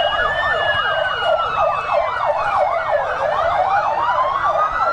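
An ambulance siren wails loudly nearby at an emergency drill in a plaza, its rapid warbling yelp cycling continuously with a second siren tone sweeping underneath.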